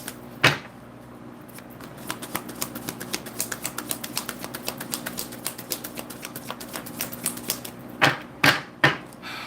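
A deck of tarot cards riffled close up in a long run of rapid, even papery clicks, ending in a few louder taps and knocks as the deck is squared.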